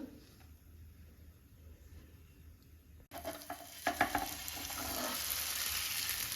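An eggless vegetable omelette batter fries in a pan: quiet at first, then after a sudden bump it bursts into a loud, steady sizzle with crackles, close and continuous to the end.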